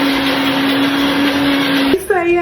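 A mixer grinder crushing ice runs with a loud, steady motor whine that cuts off after about two seconds, followed by a short voice.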